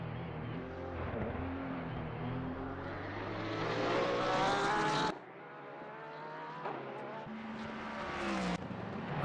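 A Porsche race car engine in a racing video game at Monza whines steadily at high revs, its pitch climbing through the gears with short drops at each shift, loud and continuous with no talk over it.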